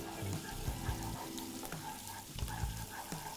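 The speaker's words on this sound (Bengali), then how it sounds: "এবার একটু নেড়ে দিব।" Finely chopped onions sizzle in hot oil as they are stirred for a fried rice dish, a steady close crackle broken by scraping and clattering stirs.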